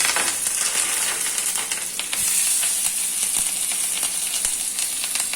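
Mustard seeds, cumin and chillies sizzle steadily in hot oil, a dense, close frying hiss with scattered small pops and crackles throughout.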